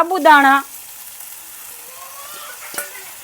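Sabudana being stirred in hot oil gives a faint sizzle and soft scraping under a short burst of talk at the start, then continues quietly with a single clink near the end.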